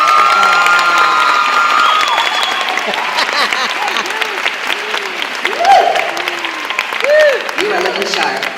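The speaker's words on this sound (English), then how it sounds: "I want to hear a rousing round of applause" Wedding guests applaud and cheer as the groom, Timothy Sanders, is introduced, loud sustained clapping with whoops and shouts, and voices calling out over the crowd.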